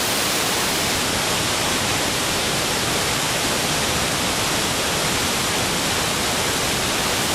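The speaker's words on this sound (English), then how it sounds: "Waterfalls out of nowhere." Waterfall in a canyon, a loud, dense, unbroken roar of falling water filling the whole clip, close and steady with no other sounds.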